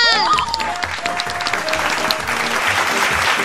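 Audience applause for a school Islamic drama crew fills the room, dense steady clapping throughout with a few voices and a presenter's speech drifting over it.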